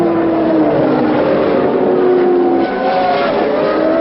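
A 1978 Indy race car of about 1,500 pounds charges past a crowd at the Daily Mail Indy Trophy, its loud, high-revving engine droning close by with a falling pitch as it passes, then rising again.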